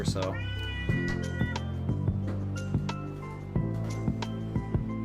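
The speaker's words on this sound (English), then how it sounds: "That's my cat. I don't know if you heard him." A pet cat meows several times in a home, with repeated short tonal calls standing out clearly and fairly close, while someone talks over part of it.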